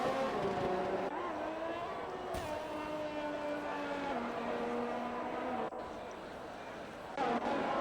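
F1 race car engine screaming down the main straight at Brazil in an F1 video game, a steady high-pitched whine with rising gear pitches, continuous and fairly loud under commentators talking.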